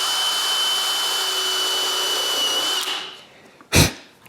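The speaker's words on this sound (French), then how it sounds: "je peux visser le couvercle en place" Power drill driving screws to fix a wooden lid in place, a loud steady whine that cuts off abruptly, followed by a short sharp clunk.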